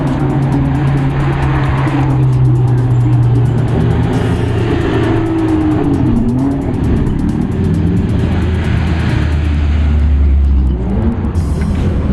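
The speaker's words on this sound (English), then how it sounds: "We hear loud engines and see classic cars racing when we exit the tram." Classic cars race past at an old car show in Potsdam, their loud engines roaring and droning continuously near the listener, with a revving note rising and falling over about twelve seconds.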